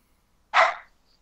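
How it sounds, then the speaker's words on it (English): A single sharp dog bark, fairly close, standing alone against near silence. "Oh, that's barking."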